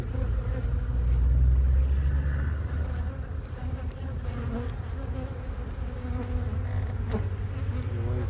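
A dense, continuous buzz of many honeybees from package colonies swarming close by, steady and loud throughout with a low rumbling hum underneath.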